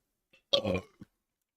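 A single loud burp from a man streaming a Dark Souls 3 DLC session, rumbling for about half a second, with a faint short sound before it and a brief grunt just after.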